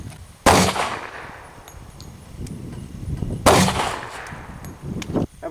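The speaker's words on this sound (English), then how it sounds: "we're going to shoot the pistol with a Springfield Armory Compact 45 with HPR 230 grain" Two loud gunshots from a Springfield Armory Compact .45 pistol firing 230-grain jacketed hollow point rounds, each a sharp crack with a decaying tail, about three seconds apart, followed by a fainter metallic clatter.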